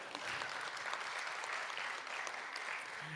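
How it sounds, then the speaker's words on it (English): Audience applause fills a conference hall during a talk on economic policy, steady and continuous clapping for about three seconds with no speech over it. "we can clap for rural North Carolina, last clap"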